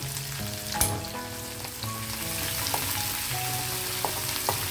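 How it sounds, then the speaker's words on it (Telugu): Ginger, green chillies and curry leaves frying in hot oil on low heat for pulihora, a close steady sizzle with sharp pops and sputters breaking through, no voices. "కరివేపాకు వేసినప్పుడు చెక్కట్లు ఆడుతుంది, చూసుకోండి"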